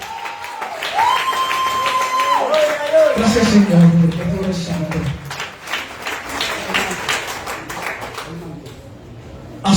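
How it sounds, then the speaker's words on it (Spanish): A church congregation applauds amid worship, with many hands clapping in a fairly close, busy burst while a voice speaks and sings over it throughout. "Un aplauso al Señor."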